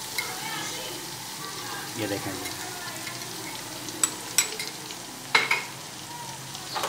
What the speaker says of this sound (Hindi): इसको चम्मच की मदद से इसको मिक्स करते रहें